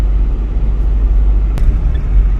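A car drives along a road near Mae Chaem, making a loud, steady low rumble from inside the vehicle, with one sharp knock partway through.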